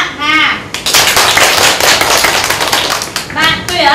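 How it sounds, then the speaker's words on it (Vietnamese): A classroom of young schoolchildren claps hands together to score classmates, a loud, dense burst of many quick overlapping claps lasting a few seconds, with brief voices before and after. "chúng mình sẽ cùng nhau chấm điểm cho hai bạn bằng cách vỗ tay"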